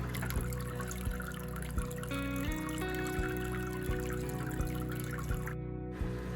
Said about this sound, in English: I did the first test run of the waterfall.